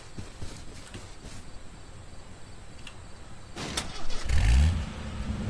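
A car engine in the video game H1Z1 rumbles low and builds to a louder roar near the end, over a faint steady background hum.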